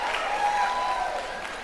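An audience claps steadily in a dense wash of applause at a live comedy show, loud and continuous from start to finish, with the crowd's voices mixed faintly into it.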